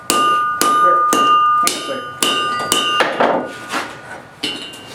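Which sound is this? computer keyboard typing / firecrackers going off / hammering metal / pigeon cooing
hammering metal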